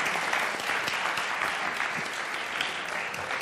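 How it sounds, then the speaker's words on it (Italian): An audience at a science event gives a long standing ovation, dense steady applause filling the whole stretch at an even level, with no voices rising above it. "per prendere questo meritatissimo applauso a Piero Angela e Piero Bianucci"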